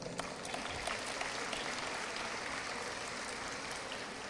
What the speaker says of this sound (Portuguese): Por favor, os aplaudam.